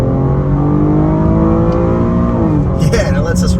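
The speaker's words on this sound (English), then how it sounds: "We'll try out these paddle shifters, little rev match downshifts." A 2024 Cadillac XT6 Sport's V6 revs loud and close, the engine note climbing then blipping sharply as the paddle shifters rev-match downshifts, with no talk over it.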